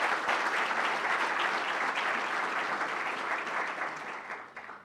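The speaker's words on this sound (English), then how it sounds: "Give it a round of applause for Floyd J." Sustained applause from a gala audience honoring Floyd J. McCree, a steady wash of many hands clapping at an even level for about five seconds before tapering slightly at the end.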